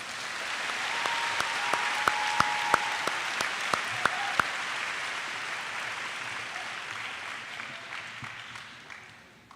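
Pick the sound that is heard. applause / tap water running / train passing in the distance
applause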